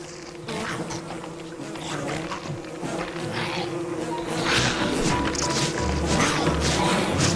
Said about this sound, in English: Hope it attacks the bees.